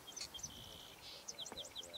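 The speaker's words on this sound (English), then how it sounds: "Just heard a song sparrow." A song sparrow sings a run of short, high chirping notes, fairly faint against a soft outdoor background.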